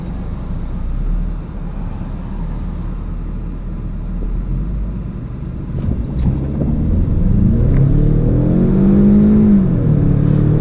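A 2017 Ford Mustang EcoBoost Premium pulls away uphill from a stop, its engine rumble building steadily and rising in pitch as it accelerates, loud and close throughout with no talking.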